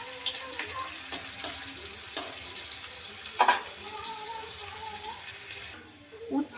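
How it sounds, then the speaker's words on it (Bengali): Bitter gourd frying in oil for a Bengali shukto, a steady broadband sizzle with occasional stirring clinks and scrapes, fairly close, briefly dropping away near the end. "উচ্ছেগুলোকে আমি লাল লাল করে ভেজে নেব।"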